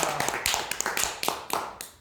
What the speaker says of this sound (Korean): 영광의 감사의 박수 올려드립니다.